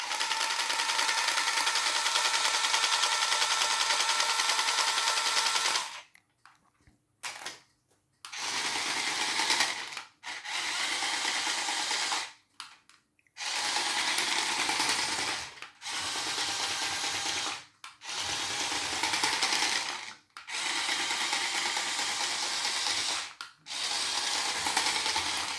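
A small toy bulldozer's motorised mechanism, driven by wheels instead of its broken caterpillar tracks, runs with a high whirring buzz, cutting off and restarting in repeated bursts of a few seconds each, close by and alone.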